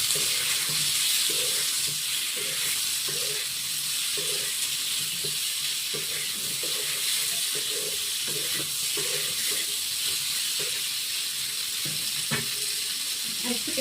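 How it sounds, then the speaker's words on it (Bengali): Potatoes poured into hot oil sizzle steadily in a pan, a continuous broad hiss with some stirring clatter, close and moderately loud throughout. "আমি এবারে এই আলুগুলো ঢেলে দিচ্ছি।"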